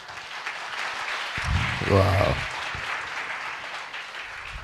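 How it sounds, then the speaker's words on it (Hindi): Church audience breaking into applause during a Hindi sermon, a brief swell of clapping mixed with cheering voices and an exclamation over ongoing room murmur. "आप खुल के ताली बजा सकते हैं"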